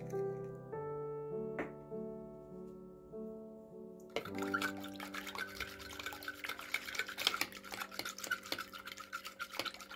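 A whisk or spoon stirring egg into cold water in a bowl for Napoleon cake dough, rapid scraping and clinking strokes that start after a quiet tonal lead-in and grow busier, no talking.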